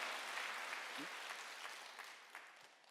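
Church congregation clapping during a Wednesday worship service: dense, sustained applause from many hands, steady and fairly loud throughout, easing slightly toward the end.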